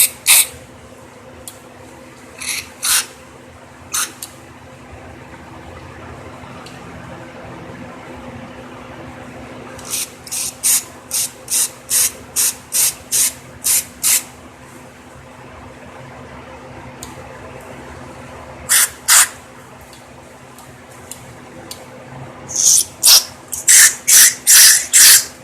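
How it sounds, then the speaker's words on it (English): Short bursts of aerosol cleaner sprayed into the carburetor of a Craftsman lawn mower, sharp hissing blasts in rapid clusters separated by quiet pauses, close up and fairly loud. "I've got my carburetor sprayed out pretty well here"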